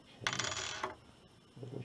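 Metal wrenches clink and rattle as they are handled and sorted beside a Hammer .50 caliber rifle, a dense cluster of close metallic clatter followed by a softer shuffle, with no talking.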